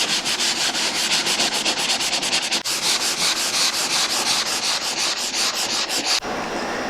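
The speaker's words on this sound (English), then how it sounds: "when you're sanding down these edges" Steady, close scraping of sanding drywall tape edges on a wall, continuous rapid back-and-forth strokes with a brief pause partway, no voices.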